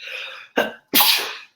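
A person sneezes sharply and close up, with a short breathy lead-in followed by two explosive bursts, the second one longer and louder.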